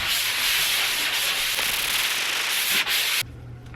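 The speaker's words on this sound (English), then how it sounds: "I'm going to do a quick sanding" Continuous scratchy sanding of drywall, close and loud, a steady abrasive rasp that stops suddenly near the end.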